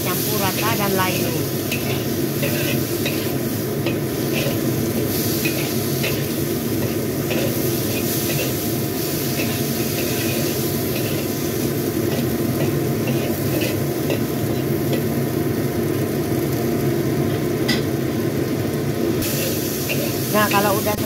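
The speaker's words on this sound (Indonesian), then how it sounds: "Setelah itu kita aduk, kita tumis hingga sampai semuanya tercampur rata dan layu." Long beans being stir-fried in a pan, a steady sizzle and hiss with scraping stir strokes running throughout, close and fairly loud.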